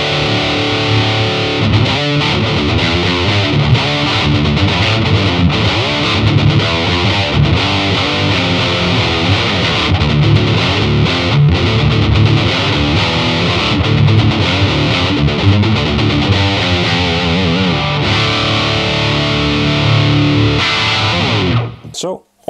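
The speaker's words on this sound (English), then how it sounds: "now I have the mids turned all the way down for a really scooped," A Gibson Les Paul plays through an ADA MP-1 preamp set for a scooped overdriven tone, with loud, continuous distorted riffs and chords that fill the whole stretch before cutting off abruptly.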